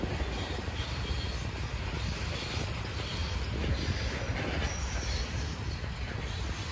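A slow freight train rolls past at CP Draw in Buffalo, New York, its wheels squealing over a dense, continuous roar of rumbling cars, loud and close with no voices.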